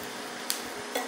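Puris frying in hot oil until golden, a soft, continuous sizzle at close range with a couple of faint clinks of a utensil against the pan.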